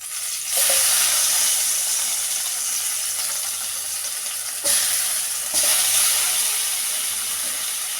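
Chopped tomatoes sizzle steadily in a pan, cooking down for a Kerala fish curry. A loud, continuous hiss flares up as they hit the oil and surges again midway, close and without talk.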